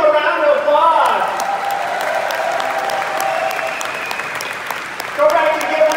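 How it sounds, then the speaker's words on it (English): An audience applauds steadily for several seconds at a product presentation, a continuous wash of many hands clapping, with a voice talking over the start and again near the end. "Let's give them a round of applause."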